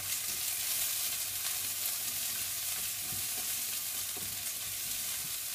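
Garlic browns on low heat in a pan, a steady close hiss of gentle frying that runs unchanged throughout, with no voices.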